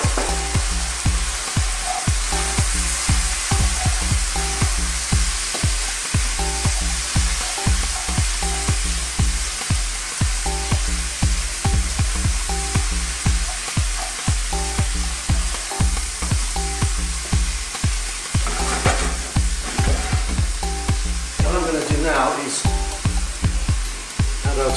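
Chilli powder, turmeric, cumin, coriander and chopped green chilli frying for a beef and yam curry, a loud dense sizzle with rapid rhythmic spatula stirring and scraping throughout, close up.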